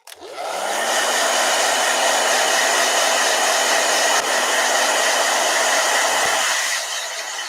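A blow dryer runs steadily and loudly for about seven seconds, switching on with a quick rise and holding an even, rushing whoosh before easing off at the end, with no voices.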